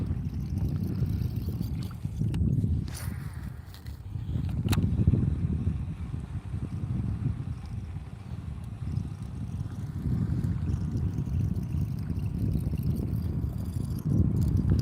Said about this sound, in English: Got another bass boat over there taking off.